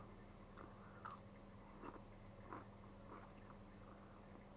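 Close, faint biting and chewing of crunchy, salty pickled cucumber, with several crisp bites followed by steady crunching, and no talking.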